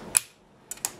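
Blade slicing through a polymer clay cane on a work surface: three short, sharp clicks, the first a bit louder, then two close together near the end, with quiet between and no talking.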